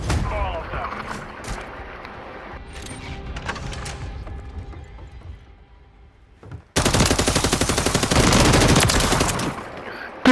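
Gunfire in the video game Call of Duty: Modern Warfare III during a free-for-all match. Scattered shots and game noise come first, then a loud sustained burst of automatic fire.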